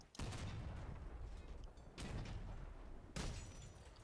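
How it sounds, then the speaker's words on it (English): Heavy sniper rifle shots from the vehicle combat game Crossout, three loud sharp blasts spaced about a second or two apart, each trailing into a rumbling decay, with no talk. "That was a miss shot."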